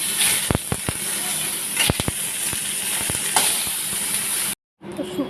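Shukto vegetables, bitter gourd and bori, cook in a pan with a steady close sizzle and scattered crackles and pops, broken off by a brief silence near the end.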